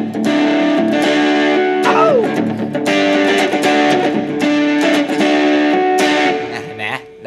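An electric guitar plays chords and short runs through the Justpro JA-25 portable amp with a light distortion setting, loud and close, ending with a brief spoken word.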